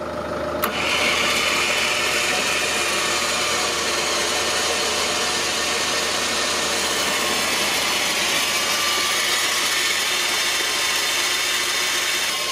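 A winch on a Troller 4x4 reels in its cable while the engine runs, giving a steady, loud mechanical whir and engine drone that holds evenly throughout without talk.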